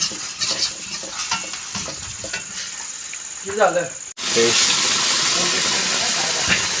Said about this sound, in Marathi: आता टाकूया बेसन, मस्त की फ्राय करून घेऊया.